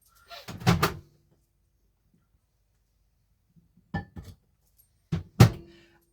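The air flap on top of a cooker lid is handled while prawn noodles are cooked, with a few sharp plastic clicks and clunks in short clusters separated by silence, close by.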